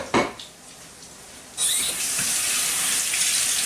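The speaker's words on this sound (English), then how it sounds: "And I'm going to wash my hands." A kitchen tap turns on with a sudden gush after a brief clink of dishes, and the water then runs steadily into the sink as hands are washed after handling raw egg.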